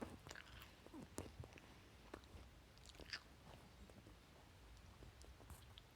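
Close, crisp crunching and biting sounds repeat irregularly, like someone chewing crunchy chips, fairly quiet with a soft background hiss.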